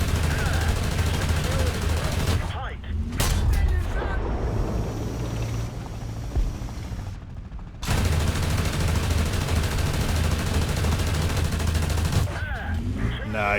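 Rapid bursts of a tank's top-mounted machine gun in War Thunder, Leopard 2K, crackling over a steady engine rumble with brief pauses between strings of fire; a voice talks over parts of it.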